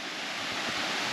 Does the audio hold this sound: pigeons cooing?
no